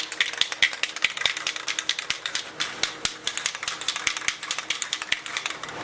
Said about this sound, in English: shake your can up